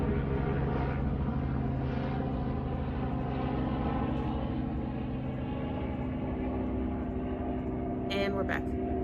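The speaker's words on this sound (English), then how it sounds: "Pause, we're waiting for this helicopter to fly by." A helicopter flies by outdoors, its steady droning engine and rotor noise filling the background continuously at moderate distance, with a brief higher-pitched sound near the end.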